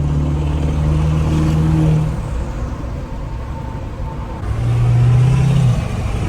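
A 6.0 Powerstroke diesel truck fitted with a non-VGT turbo accelerates in two steady pulls, with a loud engine drone and a rising turbo spool. A quieter lull separates the two pulls.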